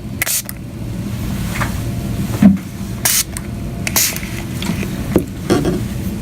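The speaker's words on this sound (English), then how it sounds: "I'm just going to spray it lightly from an angle to the soap." Alcohol is sprayed lightly onto soap in several short, sharp hissing bursts spread irregularly over a low background hum, nearby and moderately loud.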